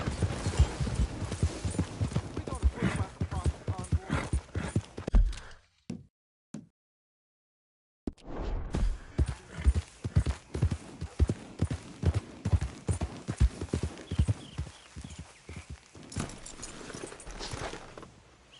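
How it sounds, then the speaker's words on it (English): Horses' hooves in a video game clip-clop steadily on hard ground, close and loud, stopping briefly in a moment of silence before the walking resumes. "I got some horses."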